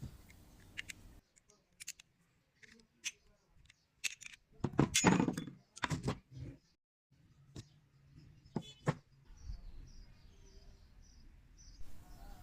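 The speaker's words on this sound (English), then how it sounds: "I'm disassembling the gun because I have to wash all the parts to remove the lubricants" Metal parts of a pistol are handled and taken apart before washing off lubricant for hot bluing, giving scattered sharp clicks and clinks, with a busier cluster midway, over a low background hum.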